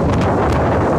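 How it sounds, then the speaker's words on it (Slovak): Strong wind buffeting a microphone outdoors at the Beckov manor in Slovakia, a dense, steady roaring rumble that fills the whole moment, loud and close. "ale tak strašne fúka"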